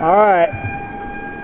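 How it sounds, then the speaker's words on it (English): A short wailing electronic siren from a Namco fire truck claw machine at a prize win, one rising-falling sweep lasting under half a second, then a steady tonal hum as someone speaks briefly. "that was a siren of victory"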